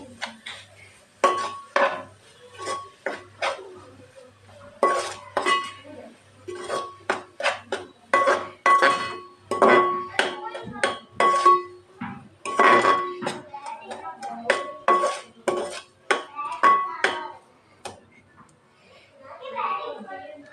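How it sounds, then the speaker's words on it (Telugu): Salt, turmeric and chili powder stirred together in a metal vessel for egg pulusu, with repeated clinks and scrapes of a spoon against the pot in an irregular rhythm. Someone talks over it throughout. "ఉప్పు పసుపు కారము వేసేసుకొని కలిపెట్టేసేసుకోవాలి"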